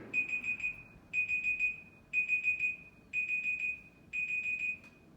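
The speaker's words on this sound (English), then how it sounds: "That was the timer." A kitchen timer alarm beeps in five rapid bursts of about four beeps each, spaced roughly a second apart, loud and clear with no talking.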